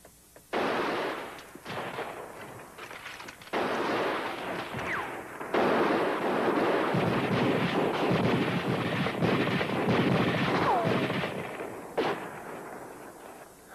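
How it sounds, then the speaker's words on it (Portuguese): Rifle gunfire in a 1955 film battle scene, with volleys of sharp shots and crackling bursts over a noisy wash of battle sound, loud and nearly continuous with brief lulls, no voices heard. "Não faz mal, atiramos, mas precisamos continuar atirando."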